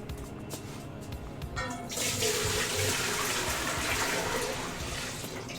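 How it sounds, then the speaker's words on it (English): Water starts running steadily into a kitchen sink after a couple of seconds of quieter clatter, continuing as a constant close rush. "Do apologize for the sink noise here for the moment."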